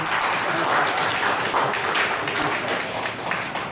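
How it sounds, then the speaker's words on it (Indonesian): An audience at a university library event claps together in a steady, fairly loud burst of applause lasting several seconds, with no clear speech over it. "Kita beri tepuk tangan ya."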